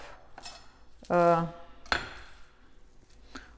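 A knife roughly chops rocket leaves on a board, giving a few scattered close knocks, one with a ringing metallic clang, no talk over it.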